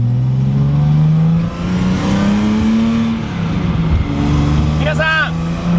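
A Datsun 240Z Fairlady Z S30, its muffler just repaired, runs nearby with a loud, steady engine drone whose pitch rises and falls as the revs change, continuing throughout.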